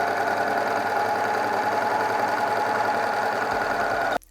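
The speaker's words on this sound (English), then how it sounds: "now I'm gonna go in my overlocker and close the seams" An overlocker sewing machine closes the seams of a hook-and-eye top, running in a steady, continuous mechanical whir at close range, then stopping abruptly just before the end.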